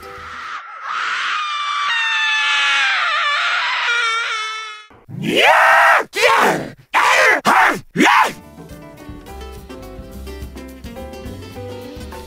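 Comedic scream effect for pouring demon's blood volcano sauce in a cooking show: a long wailing, groaning cry that holds for several seconds, then a string of short loud shrieks, then a softer musical tail.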